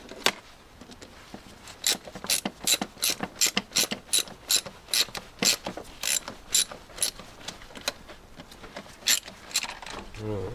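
A ratchet wrench cranking rapidly while undoing bolts and a nut on a Land Rover Discovery 2 windscreen wiper motor, with dense, repeated metallic clicking bursts in quick rhythm, close by, ending with a brief pause.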